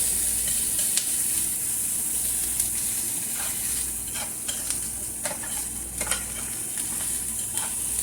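Small sausage pieces fry in a pan with a constant, close sizzle, broken by repeated light scrapes and clicks of a utensil stirring them around.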